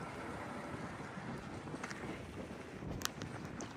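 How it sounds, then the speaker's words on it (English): Wind blows outdoors in Mammoth as a quiet, steady rushing buffet across the microphone, with no distinct sounds standing out. "Got that wind blowing."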